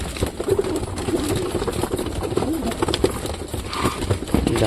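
Pigeons in a loft, including domestic and flying breeds, fill the space with a continuous murmur of cooing, close and steady throughout, with occasional rustling among the birds.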